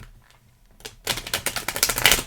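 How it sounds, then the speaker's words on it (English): A deck of cards is shuffled during a pick-a-card love reading: a brief soft rustle, then a rapid, close riffle of crisp clicking snaps that grows denser and louder, with no talking. "let me shuffle the cards once again"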